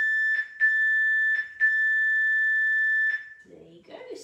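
A workout interval timer beeps during a lower-body resistance band session, giving five sharp electronic tones in uneven pairs and singles, then a faint voice speaks briefly at the end.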